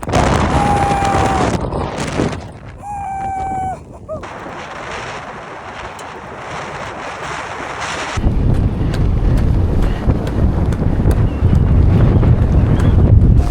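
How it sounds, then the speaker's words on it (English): Strong gusts on the Oregon coast pounding a car so it shakes, loud roaring wind buffeting against the microphone with heavy rumbling, a brief whistling tone early on and a short quieter lull before the blasts return. "it's blowing so hard. The whole car is just shaking back and forth."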